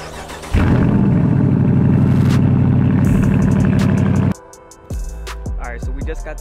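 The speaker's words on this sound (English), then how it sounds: "Cold start." A car engine cold-starts with a loud crank and roar, holds a high revving idle for about four seconds, then drops back before settling into a quieter, lower idle.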